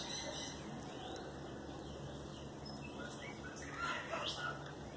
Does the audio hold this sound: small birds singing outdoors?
yes